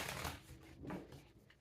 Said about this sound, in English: We got one more shuffle